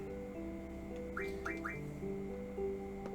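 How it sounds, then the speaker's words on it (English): The Choco Whistle is blown in Final Fantasy VIII, giving a quick series of three bright, rising chirpy whistle notes over soft, sustained game music. "Choco Whistle."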